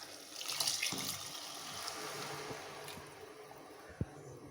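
Water being poured into rice in a pot for mint biryani, a steady soft splashing and trickling stream, close but fairly quiet, ending with a small clink.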